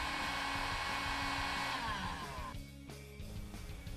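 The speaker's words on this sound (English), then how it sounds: "Using a low heat setting on a heat gun, heat the end of the tape about 120 to 150 degrees Fahrenheit until the tape begins to soften." Close, steady whirring blower of a heat gun on a low setting heating the end of Squids tool-tether tape, with a slight dip in the airflow tone near the end.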